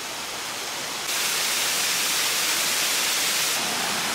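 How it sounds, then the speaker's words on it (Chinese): Waterfall in a Taiwan forest, a loud, steady roaring rush of falling water, close by and unbroken. "我们终于到达了瀑布。"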